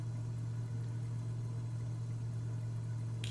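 Steady drone of a light aircraft's piston engine held at 2300 RPM climb power in Microsoft Flight Simulator, a constant low hum running unbroken and fairly loud throughout with no talking.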